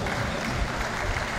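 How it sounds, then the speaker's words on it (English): Crowd applause at a boxing event for two boxers in the ring, a dense, steady wash of clapping and crowd noise that stays loud throughout without a break. "let's give a round of applause to our two boxers inside the ring."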